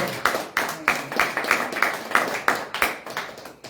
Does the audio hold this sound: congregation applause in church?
yes